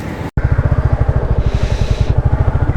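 Motorcycle engine running loud and close, with rapid regular firing pulses and a brief cut near the start as the rider shifts up through the gears.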